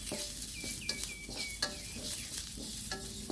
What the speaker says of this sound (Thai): ผัดผัดไปแบบนี้นะคะ นี่นะคะก็คั่วมาสักพักนะคะ